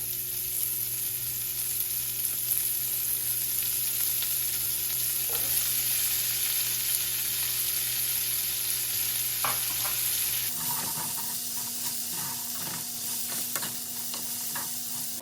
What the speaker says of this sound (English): We're going to go ahead and add our vegetables on top of that,